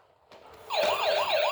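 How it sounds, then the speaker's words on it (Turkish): A wailing siren, like a toy police car's, starts abruptly and sweeps up and down in a steady rising-and-falling cycle, loud and close. "Aha polis arabası geliyor."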